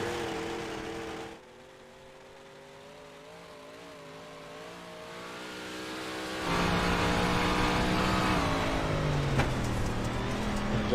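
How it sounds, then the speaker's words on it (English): A race car engine in a Monday night race revs and rises in pitch as the driver gets on the throttle into a corner, quiet at first, then louder and more aggressive from mid-clip. "you can hear the car, how much more aggressive he is on the throttle on corner entry"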